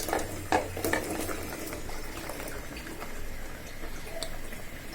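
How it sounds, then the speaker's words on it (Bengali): Radish and bean vegetables fry with spices in a pan, giving a steady close sizzle broken by a few clinks and scrapes of a utensil against the pan early on, with no talking. "এবার এগুলো ভালোভাবে কষে যাক"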